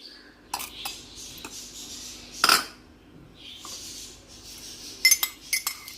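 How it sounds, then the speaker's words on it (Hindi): Ice cubes clink into a glass while falooda is assembled, arriving in a few separate bursts of bright, close-up knocks and rattles over a quiet room. "ये मैं पहले बर्फ़ डाल रही हूँ इसमें।"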